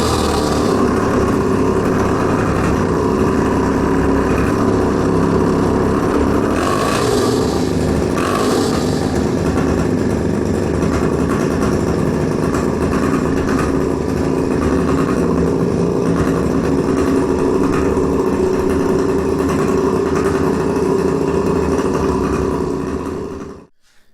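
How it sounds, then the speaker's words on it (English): A Peugeot 103 RCX moped engine runs steadily and loudly at close range for the whole stretch, with a constant buzzing drone and no talk, then cuts off abruptly at the end. "So the bike runs again."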